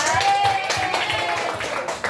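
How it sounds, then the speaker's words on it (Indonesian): A classroom group claps for another group during a computational-thinking lesson, with a burst of mixed hand claps beneath voices and a faint high tone. "Tepuk tangan untuk kelompok 2."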